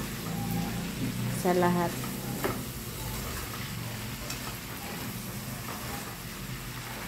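Adobong sitaw stirred and mixed in a hot pan, a steady soft sizzle running throughout, with a few scraping spoon strokes, while a person talks over it.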